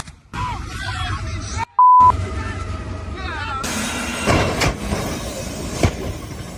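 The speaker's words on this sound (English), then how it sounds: "Despite desperate warning blasts from the train's horn, the impact was unavoidable, completely shredding the trailer" A Norfolk Southern freight train in heavy snow in Gastonia sounds warning horn blasts, then smashes into a truck trailer stuck on the tracks: tonal horn blares and a beep give way to a loud, sustained crashing, shredding roar.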